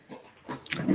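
Dogs barking nearby in short, rough bursts that grow louder and denser toward the end.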